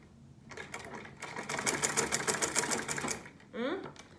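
A sewing machine stitches fabric with a fast, steady mechanical rattle for about two and a half seconds, then stops; a short voice is heard near the end.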